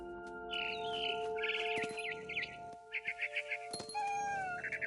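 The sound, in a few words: barn swallow chirping, from the video game What Remains of Edith Finch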